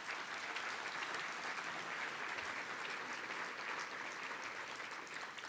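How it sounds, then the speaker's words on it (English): A banquet audience at a San Francisco CityBeat awards event claps for the people who served the meal, a steady, broad applause heard from a distance and fairly faint, with no voices over it. "Can we give them a round of applause?"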